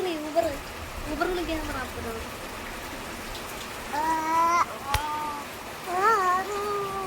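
Rain falls steadily in a constant hiss while people talk intermittently over it, their voices close and clear above the downpour.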